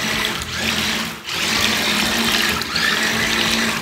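Waterproof toy RC car running through water, its electric motor giving a loud, steady buzzing whine mixed with splashing, dipping briefly twice before resuming, with no talking.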